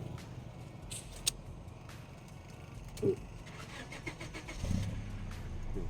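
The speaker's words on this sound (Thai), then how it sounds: "เครื่องฟรีสตาร์ติดง่าย" A used sidecar motorcycle rig with a B20 engine cranks and starts, with soft clicks and a brief cranking whir before the engine catches into a low, near idle rumble.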